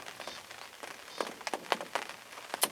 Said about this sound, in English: As you can probably see and hear, it's raining this morning.